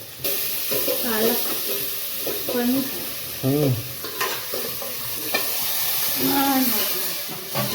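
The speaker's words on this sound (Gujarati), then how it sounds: "શાક વઘારી દીધું ગાઈસ" Hot oil sizzles and hisses steadily as raw tomato curry is tempered, with a person talking intermittently over the constant crackle.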